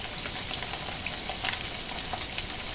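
Arbi (taro root) pieces fry in hot oil with a steady, close, crackling sizzle and occasional small pops, with no voices.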